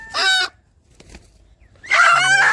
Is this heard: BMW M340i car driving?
no